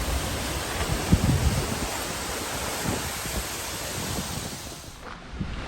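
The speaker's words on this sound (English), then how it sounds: "we're to the big waterfall now" Broad, constant rushing roar of a large waterfall in Iceland, dense and loud, with occasional low gusty thumps.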